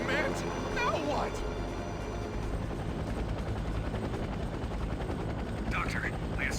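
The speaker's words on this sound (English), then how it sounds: "Drop altitude and land your helicopter at once." A helicopter's steady rotor drone runs throughout, loud and continuous, with voices talking over it and a brief burst of rattling noise.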